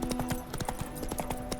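Hooves clip-clop in a fast, steady galloping rhythm as the horse Roach runs in The Witcher 3, close and continuous under a low background drone.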